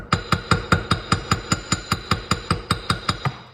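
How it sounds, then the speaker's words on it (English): A ball peen hammer's round end taps gasket material around a hole in a steady series of about sixteen light, evenly spaced strikes, close and clear with no talking. "So then you use the round end of the ball peen. Same deal. Just tap around the hole."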